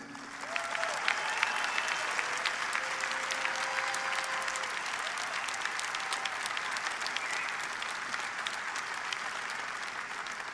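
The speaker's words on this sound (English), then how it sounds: "Let's give a great round of applause for this year's winner," Sustained, steady applause from a large crowd at the 2018 Mr. Olympia bodybuilding finals, greeting the year's winner, with an announcer's voice faintly audible underneath for a few seconds.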